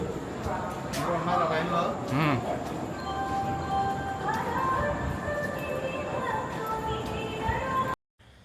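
A train running half an hour late rumbles and rolls in steadily to the platform, with a continuous mechanical drone and faint squeals over the busy background noise of a station.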